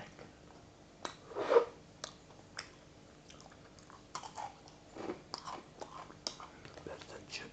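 Close-up chewing and biting of sweet Russian sushki crisp bread rings, soft crunches and bites scattered irregularly with quiet mouth sounds in between, intimate and faint with no talking.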